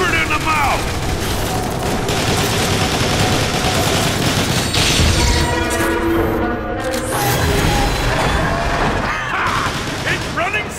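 Heavy, continuous gunfire in Transformers War for Cybertron, rapid bursts and blasts packed densely together at loud, close range, with shouted voices in the mix.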